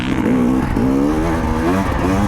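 A GasGas dirt bike engine revs hard and steadily on a grass track, a loud close rasp with rising and falling pitch sweeping through the whole stretch.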